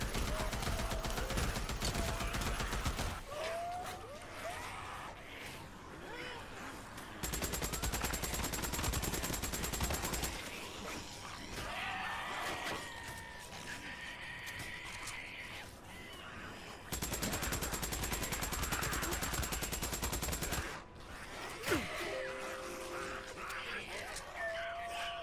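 Sustained bursts of gunfire from the game Days Gone, fighting a horde at Mt Bailey near Crater Lake, with loud blocks of rapid shooting alternating with quieter stretches and game sounds, and a voice talking over parts of it.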